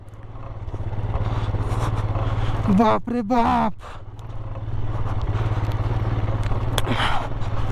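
A motorcycle labours through deep sand on a mountain road between Gonbo Rongjon and Purne in Zanskar, Ladakh, its engine droning steadily at close range. Someone speaks over it in the middle of the clip.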